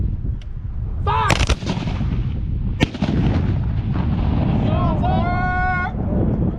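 Civil War reenactors fire a volley of muskets outdoors under a tornado watch, giving a sharp crack followed by a second blast amid wind noise and a rumbling background. Voices shout commands over it.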